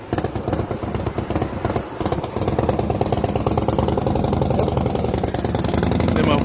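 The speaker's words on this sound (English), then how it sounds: "Nice bike." A motorcycle engine at the beach drones continuously with a choppy, pulsing rumble that grows steadier and fuller partway through, staying fairly close and loud throughout.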